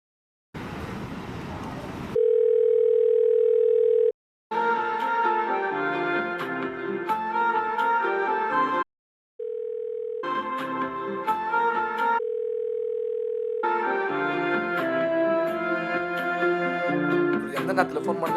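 An unanswered phone call rings again and again: loud steady ringback tone bursts alternate with a melodic caller tune, separated by brief silences and with no one picking up.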